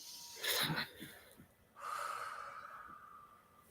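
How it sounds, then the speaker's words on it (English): A quiet, close, slow deep inhalation through the nose during a guided breathing session, preceded by a short breathy exhale, soft and intimate with no talk. "So take another nice deep breath in."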